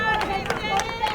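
A crowd at a Mamaroneck High School softball game claps and murmurs at a steady level through the whole moment, with scattered individual claps and voices chattering beneath.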